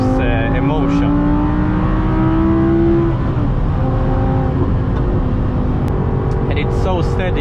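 An Audi R8 V10 supercar drives along, its engine droning steadily inside the cabin with shifting tones as the revs change, while someone talks over it.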